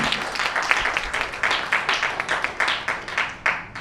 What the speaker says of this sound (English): Can we have a round of applause for the performer, ladies and gentlemen?